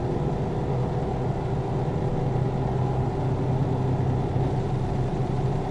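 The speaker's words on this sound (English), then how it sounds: "Hearing the truck in the tunnel like this." A Lonestar truck engine drones inside a tunnel in American Truck Simulator, a steady, loud, enclosed low hum with layered tonal rumble and no speech.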